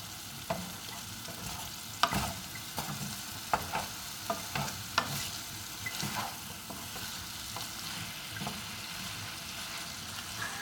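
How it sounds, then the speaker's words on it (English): Ground turkey stir fry sizzling in a wok while being stirred, soft continuous frying hiss broken by scattered utensil taps and scrapes, moderately quiet and close, no talking. "I'm giving my turkey stuff a little bit of a stir"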